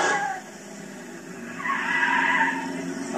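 Corvette and GMC pickup launching side by side at a 1980s drag strip, tire squeal and engine roar rising mid-clip after a brief dip, moderately loud with crowd ambience.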